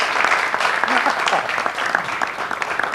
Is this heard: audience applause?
yes